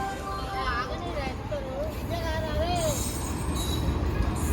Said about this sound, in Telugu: మా ట్రైన్ అయితే ఇప్పుడే వస్తుంది.